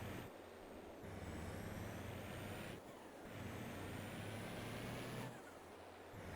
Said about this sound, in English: We're in our truck.